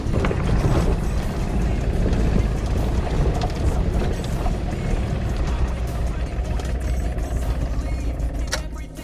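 A Mercedes E190 engine idles with a steady, dense low rumble that holds close and even for the whole stretch, with someone talking over it now and then.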